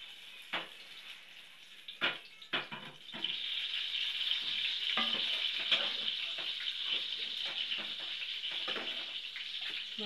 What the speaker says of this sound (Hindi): बस ये तड़का लगा रही हूँ,